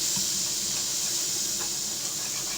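Butter and a garlic clove sizzle steadily in a pan while pork chops are cooked for a garlic herb sauce, a constant close hiss with no talking.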